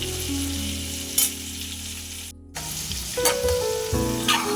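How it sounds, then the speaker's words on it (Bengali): Potatoes sizzle steadily in hot oil with a brief cut in the sound, while background music plays underneath. "তারপর আলুগুলোকে নাড়াচাড়া করে ভেজে নিলাম।"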